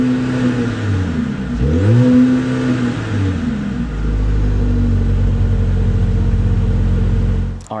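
A 2025 Mercedes-Benz CLA 250 engine revs up and down through its exhaust, a deep throaty roar rising and falling before settling into a steady loud rumble.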